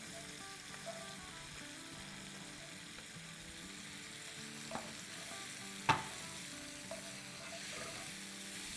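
Carrots hit hot oil and sizzle steadily in a pan while being stir-fried, a soft continuous crackle broken by a few scraping knocks of the spatula and pan.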